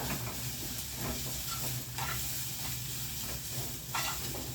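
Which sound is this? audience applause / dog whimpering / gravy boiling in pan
gravy boiling in pan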